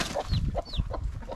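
A broody hen on a homestead clucks in short, repeated low bursts at close range, with a few higher chirps mixed in and no talking.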